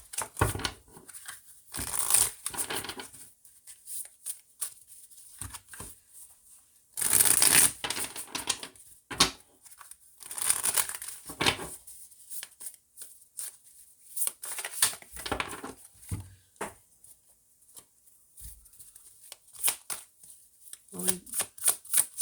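Tarot cards are shuffled in repeated bursts of crisp riffling and flicking, close and fairly loud, with short pauses between shuffles and a faint voice at times.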